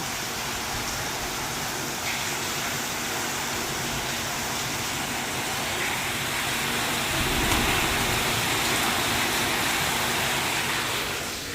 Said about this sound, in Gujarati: જો આપણે આવું પાણી પડે છે